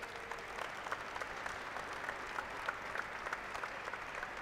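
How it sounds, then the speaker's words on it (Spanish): A crowd at a Leonese wrestling team league final applauds to welcome the medical staff, a soft but continuous patter of clapping with no speech over it. "pido un aplauso para presentar a nuestros sanitarios, Alberto Pérez y Asdrúbal."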